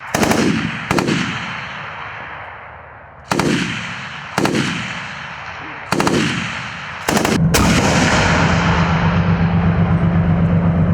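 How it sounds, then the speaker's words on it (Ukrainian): Heavy gunfire from automatic rifles and machine guns at a military firing range: loud booming shots echo widely, then a sustained rapid burst of machine-gun fire rattles on without pause. "Стріляють з усього автомати, кулемети."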